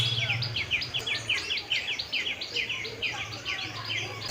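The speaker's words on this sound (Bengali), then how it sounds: "কোকিলের আওয়াজ তোমরা নিশ্চয় শুনতে পাচ্ছ।" Cuckoo calling among palash trees in a Belur flower garden near Kolkata, a quick run of bright, repeated chirping notes in steady rhythm, with faint low voices in the background.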